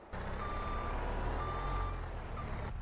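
Repeated electronic reversing beeps from a tracked skid steer loader in the Farming Simulator 22 video game, steady tones over a low engine rumble.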